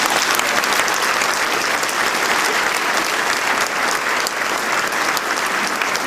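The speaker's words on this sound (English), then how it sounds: "I think these guys deserve a huge round of applause." Loud, sustained applause from a banquet crowd fills the whole stretch, thick and even clapping close by, with no voices breaking through.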